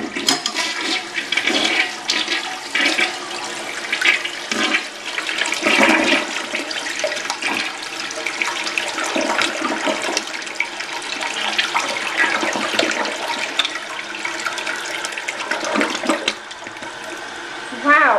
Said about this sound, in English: I think that was a quadruple flush.